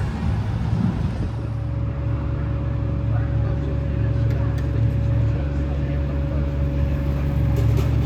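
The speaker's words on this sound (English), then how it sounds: "Yep, QPR's team bus has definitely arrived." The QPR team bus arrives at the Hawthorns stadium, its engine giving a loud, steady low hum and drone throughout, with a person talking nearby over it.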